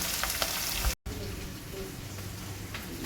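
Fish frying in hot oil, a close, steady crackling sizzle broken by a moment of silence, then resuming with soft stirring clinks and a voice talking in the background.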